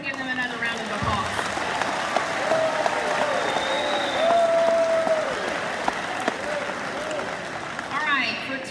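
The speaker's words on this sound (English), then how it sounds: "Y'all give them another round of applause." Audience applause for ninth graders at a high school awards ceremony, a steady, dense wash of many hands clapping throughout at moderate volume, with faint crowd murmur and a brief voice underneath.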